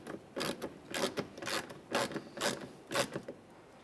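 An Allen-head fastener is turned clockwise to lock a mud flap against the fender liner of a 2015-2020 Ford F-150, six or seven close ratcheting rasps in a steady rhythm about half a second apart.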